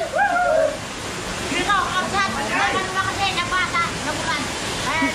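Rushing water from a remote mountain waterfall swollen by rain forms a constant background roar, while people talk and call out over it throughout.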